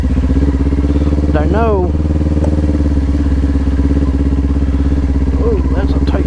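A 400 motorcycle engine runs steadily and close with a low, even throb as it is ridden, while someone talks over it and the pitch briefly swoops as the engine revs.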